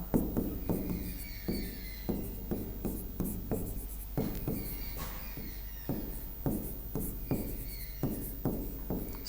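Chalk or marker strokes on a board, a steady run of short scratching taps and rubs close by with no talk, as a teacher writes out lines of Hindi verse metre.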